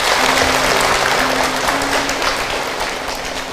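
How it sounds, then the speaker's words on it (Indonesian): Audience applause at a religious lecture, a dense wash of clapping from a seated crowd that stays steady and fairly loud throughout, with a faint sustained tone underneath early on. "Tepuk tangan buat bunda semua yang hadir."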